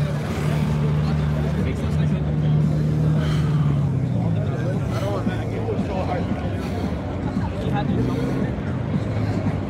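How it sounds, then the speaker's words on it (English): Lamborghini Aventador SV idling and rumbling at a busy car meet, its low engine drone rising then easing as it rolls past, under steady crowd chatter and nearby talking voices. "Oh, this is finally an Aventador."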